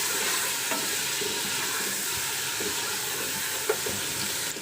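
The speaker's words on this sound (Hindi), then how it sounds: "अच्छे से इसको फ्राई कर देंगे" Ginger garlic paste frying with chicken in a pan for a kidney bean and chicken curry, a constant close sizzle with occasional soft stirring knocks.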